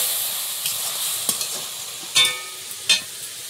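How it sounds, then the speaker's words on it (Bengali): Cauliflower and potato fry in a pan with a steady, soft sizzle, and a few sharper crackles and spatters pop up near the end, with no one speaking. "একটু নুন হলুদ দিয়ে ফুলকপি আলুটা একটু প্রথমে ভেজে নিচ্ছি।"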